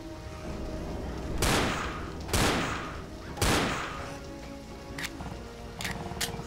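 Pistol fire in Left 4 Dead, three sharp, loud shots about a second apart followed by a few quicker, lighter pops over a steady background hum.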